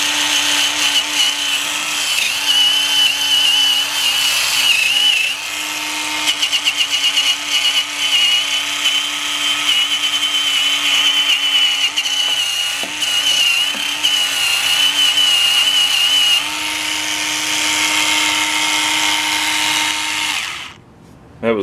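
A Dremel PC-10 Versa power scrubber fitted with an abrasive brown pad runs with a loud, steady motor whine and scrubbing hiss. The pitch shifts slightly as pressure changes, and it goes on continuously before cutting off.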